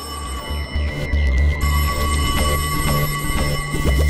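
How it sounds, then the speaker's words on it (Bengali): Telephone ringing in a home in repeated bright electronic trills, loud and close, over a low steady hum with a few knocks in the background. "ওহো, আবার ফোন।"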